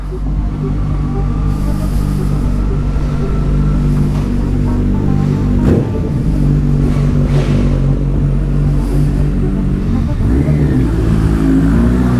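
A loud, steady rumble of a litre-class Yamaha Fazer 1000 motorcycle with a new aftermarket exhaust, heard close on a night ride through Warsaw, with a deeper swell around the middle and again near the end.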